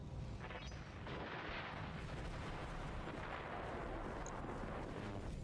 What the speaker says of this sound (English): That sounds like an explosion.